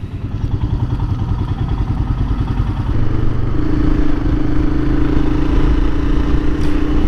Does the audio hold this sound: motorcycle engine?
yes